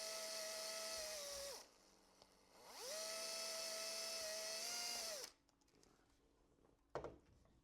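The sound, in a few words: drilling screw holes in model Catalina plane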